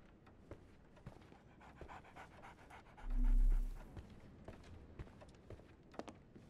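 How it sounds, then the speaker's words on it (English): A dog pants steadily in the Sherlock Holmes The Awakened game, a soft rhythmic huffing that runs quietly under faint footstep-like ticks, with a brief low swell partway through. "So, Barnes has a dog now."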